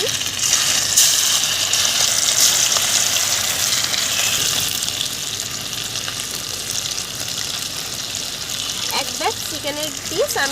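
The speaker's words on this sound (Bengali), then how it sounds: "এখন আমি আগে থেকে ম্যারিনেট করা চিকেনের পিসগুলোকে গরম তেলের মধ্যে ছেড়ে দিচ্ছি" Marinated chicken pieces dropped into hot oil give a loud, continuous, close sizzle that fills the whole stretch, with a brief voice-like sound near the end.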